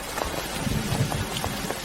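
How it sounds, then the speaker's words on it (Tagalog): Heavy rain pours down in a dense, steady hiss with scattered patters of drops, continuous and fairly close throughout. "Napakalakas ng ulan."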